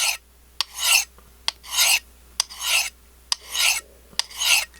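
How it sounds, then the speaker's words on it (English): A knife is honed on a fine ceramic rod, six smooth, even rasping strokes at a steady rhythm, each set off by a light click, close and alone. "And now to the fine ceramic rod, just to give this a little touch up."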